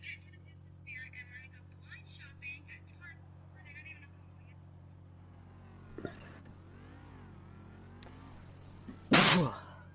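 A single sharp sneeze bursts out near the end, following quiet whispery murmuring over a low steady hum, during live commentary of a GTA Online stunt race.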